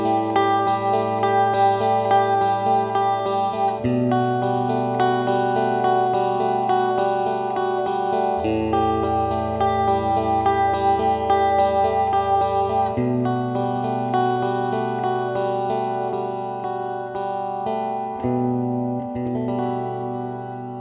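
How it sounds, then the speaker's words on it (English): Sustained instrument chords run through a TC Electronic Hall Of Fame reverb pedal on its church setting, each chord blooming into a long, lush wash that overlaps the next, loud and continuous for about twenty seconds with no talk. "Next up is the church setting, and of course you can get some extremely long and beautiful reverbs with that"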